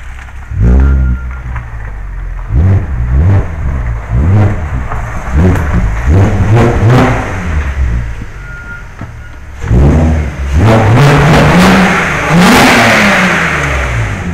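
An Audi A3 fitted with an S3 exhaust revs hard in a string of loud, close bursts, each rising and falling sharply, with a few short pauses and a final longer run of throttle blips.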